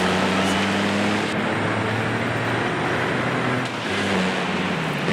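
A diesel engine of a Toyota Land Cruiser AT37 in Forza Horizon 5 drones steadily and loudly throughout, with a low rumbling tone that shifts pitch slightly as revs change, with no talking.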